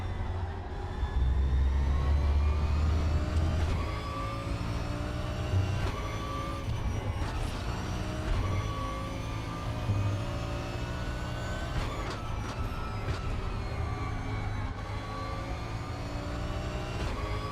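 A racing car engine in the video game RaceRoom Racing Experience: a steady drone with rising and falling harmonic whines, revving and shifting gears, continuous and loud with no talking.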